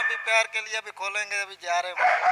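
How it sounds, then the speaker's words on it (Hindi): Several dogs at a police animal rescue center bark, yip and whine in a loud, overlapping chorus close by, while someone talks over the din. "जितने भी कुत्ते भौंक रहे हैं यहाँ"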